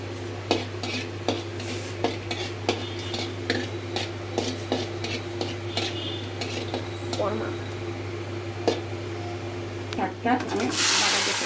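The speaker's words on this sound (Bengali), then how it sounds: "শাকটা আমি বাগার দিয়ে ফেলছি।" Lau (bottle gourd) greens being tempered and stirred in a pan at home, with a spatula clattering and scraping against metal over a steady low hum, and a burst of sizzle near the end; a voice talks throughout.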